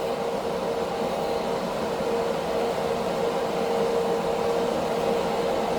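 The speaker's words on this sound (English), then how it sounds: "of course, we turn this on full blast" An Amazon spray booth's extraction fan running at full blast, a loud, steady whooshing roar with a faint tonal hum, unchanging from start to finish.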